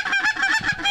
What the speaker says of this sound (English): Watch that goose.